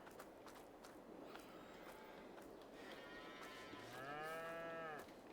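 Cattle on a dairy farm in Farming Simulator 22 give one long, drawn-out moo near the end, following soft shuffling steps and faint background ambience, with no talking.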